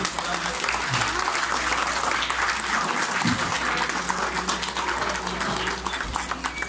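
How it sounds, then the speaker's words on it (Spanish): A crowd at an artisan bread festival in San Miguel Tecomatlán, State of Mexico, gives loud, continuous applause outdoors, with a low steady hum and talk underneath. "Que venga ese fuerte y caluroso aplauso."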